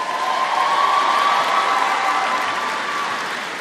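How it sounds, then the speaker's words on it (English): Loud, sustained applause from a commencement audience at Alabama A&M University, a dense steady clatter of many hands with a few cheers, continuing evenly throughout. "Give them a round of applause."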